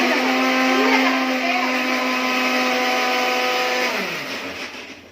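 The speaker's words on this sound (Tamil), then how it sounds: "ஜார்ல போட்டு ஒரு சுத்தி சுத்திட்டோம்னா முழுசு முழுசா இருக்காது" A mixer grinder jar spins tomatoes and spices for chicken biryani with a loud, steady motor whine, then winds down with a falling pitch as it stops.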